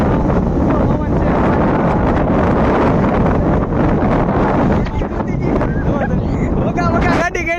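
Strong outdoor wind buffets the microphone, a loud continuous rumbling roar that barely lets up, with faint voices mixed in near the end.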